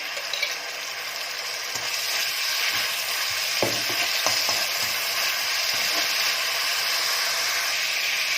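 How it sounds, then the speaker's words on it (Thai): Garlic sizzles steadily in a hot pan for a simple Thai-style stir-fried corn gravy noodle dish, a constant bright hiss with occasional stirring clicks and scrapes, close and continuous, with no talking. "เจียวกระเทียมลงไป"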